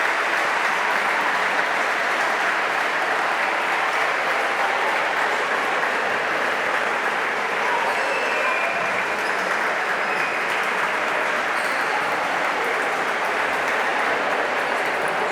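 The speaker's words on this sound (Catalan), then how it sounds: "Un fort aplaudiment per als nostres xics." A sustained, steady wash of applause fills a hall at a handball club team presentation in Benicarló as the cadet boys' team is introduced, continuous and even throughout.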